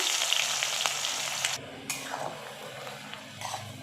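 Green chillies, cinnamon, cloves, bay leaves and onion fry in oil with a soft, continuous sizzle, broken by a few brief stirring scrapes and clinks, with no talk over it.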